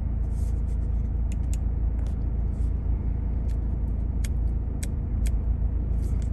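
A Volvo V40 engine idles steadily just after start-up, a constant low rumble heard from inside the car, with a few light clicks and taps scattered over it.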